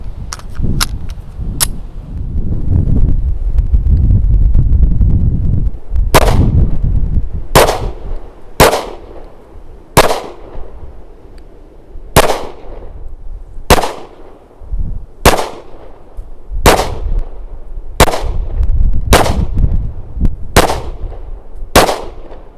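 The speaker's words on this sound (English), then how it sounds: "So I put roughly 80 rounds through the Shield Plus today" A Smith & Wesson Shield Plus pistol in 30 Super Carry fires HST rounds outdoors, with a few early shots, then a steady string of about a dozen loud, sharp reports at roughly one-second intervals.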